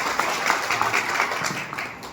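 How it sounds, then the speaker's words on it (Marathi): An audience at a devotional music gathering gives dense, continuous applause, many hands clapping together at close range, alone with no voices. "टाळी वाजवा त्याच्याकरता."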